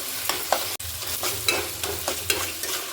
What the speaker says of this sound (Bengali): এবার আদাটাকে আমি নাড়াচাড়া করতে থাকবো